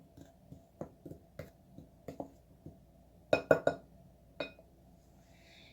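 A utensil whisks salt and pepper into flour in a bowl, giving a steady run of light clinks and taps against the side, followed by a brief cluster of louder clacks.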